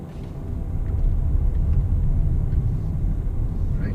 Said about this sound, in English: There's a Aston Martin DB11 Volante and an S63 drive-by.